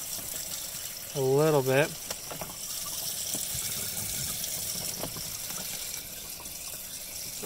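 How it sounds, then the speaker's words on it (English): Water runs into an RV washer to rinse the load, a steady hissing flow continuing throughout at moderate level, with a person speaking briefly near the start. "Turn on the water because I want to rinse them."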